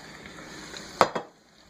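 Frozen spinach drops into a hot pan for a walnut parmesan dish, two quick sizzling bursts after a quiet moment.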